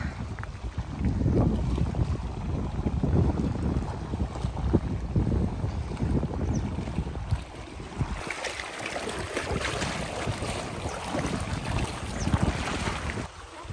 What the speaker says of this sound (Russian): Видите, волны заливают